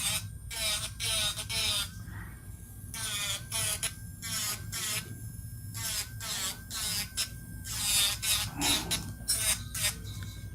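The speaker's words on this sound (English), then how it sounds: "Angle your drill bit, blend it down." A nail drill bit files down a fingernail during neon pink ombré nail art, giving a close, rapid series of rasping grinding strokes over a low steady hum, with no talking.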